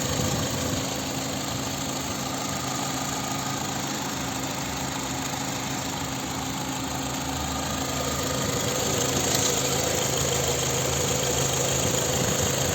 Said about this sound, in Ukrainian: Ось правильна робота двигуна.